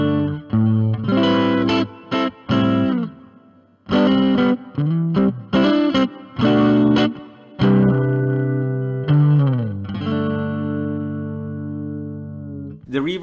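An electric guitar plays distorted chords and riffs in bursts, with a long reverb tail from a Zoom MS-70CDR pedal ringing out after each phrase before the next.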